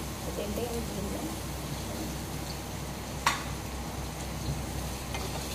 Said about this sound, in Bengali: গ্যাসের ফ্লেমটাকে আমি হাই করে ভেজে নিচ্ছি।